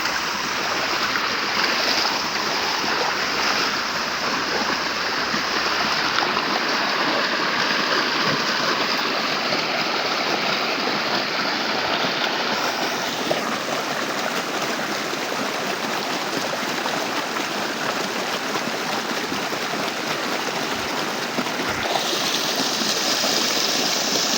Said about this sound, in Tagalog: Water is alive.